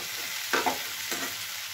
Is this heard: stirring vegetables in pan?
yes